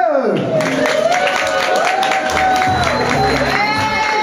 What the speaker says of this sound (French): Merci pour ces petits applaudissements.